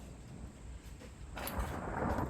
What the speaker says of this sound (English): As that thunder rolls